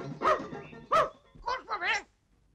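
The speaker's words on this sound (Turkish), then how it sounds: "Kurtarın beni, köpek geliyor." A dog barks in a scene from an old Turkish comedy film. There are several sharp, close barks and yelps in quick succession, with shouting voices mixed in.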